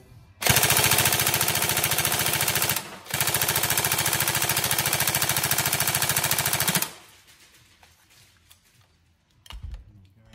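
Tokyo Marui SCAR-L NGRS airsoft rifle, freshly repaired, firing full-auto in two long rapid bursts with a brief pause between, a loud mechanical rattle of the cycling bolt, then quiet handling clicks afterward.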